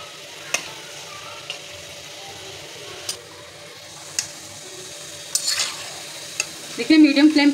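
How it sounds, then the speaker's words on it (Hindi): Pakoras fry in oil over a medium flame with a soft, steady sizzle, punctuated by several sharp ticks and clinks of a utensil against the pan, and a brief louder bubbling toward the end. "देखिए मीडियम फ्लेम पे ही आपने इन्हें तलना है।"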